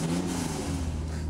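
A stock, freshly rebuilt old-school inline six engine holds a steady, loud high rev on a dyno, its smooth continuous drone close and unbroken with no talk over it.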